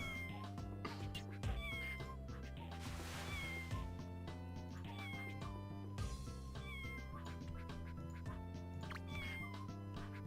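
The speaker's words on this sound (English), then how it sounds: "You can still hear it meowing." A cartoon cat meows repeatedly in the video game Scribblenauts, its rising and falling cries clear and close over a steady bed of looping game music, with no talk.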